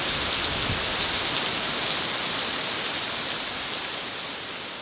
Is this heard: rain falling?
yes